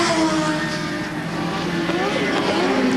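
Two Nissan touring cars at Lakeside in a 1990 Australian Touring Car Championship race, engines roaring steadily and loud throughout with rising and falling tones, while a commentator talks over them.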